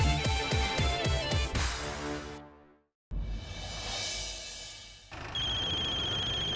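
A melodic phone ringtone plays loudly, cuts to silence, then resumes with a bright synth tone that continues to the end.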